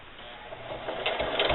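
A sewing machine stitches fabric for a can koozie at a 1/8 inch seam allowance, giving a steady mechanical whir that builds in loudness toward the end.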